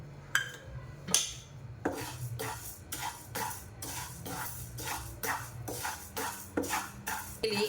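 Half a cup of urad dal is dry-roasted in a pan, a utensil scraping and stirring it in repeated clinks and rattles of metal against the pan, moderately near and steady.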